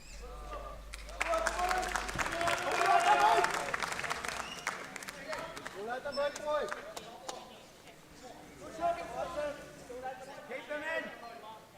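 Spectators at a women's football match between Ireland and Northern Ireland cheer and clap in a swelling burst that peaks and fades, while a commentator talks over the crowd noise throughout.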